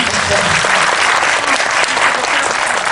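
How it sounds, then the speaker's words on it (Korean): An audience at a Korean screening Q&A for Moana breaks into loud, dense applause that holds steady for about three seconds. "소양 씨에게도 박수"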